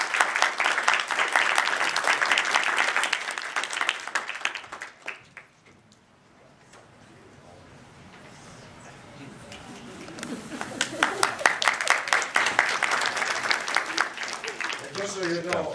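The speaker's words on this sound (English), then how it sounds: "So give him a round of applause." Audience applause at a Lockport City Council meeting honoring young chess players: a loud burst of clapping fades to near quiet, then a second sustained round of clapping builds and continues.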